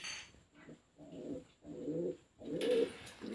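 A pair of pigeons coo nearby in a row of soft, throaty rolling calls, each about half a second long, separated by short quiet gaps.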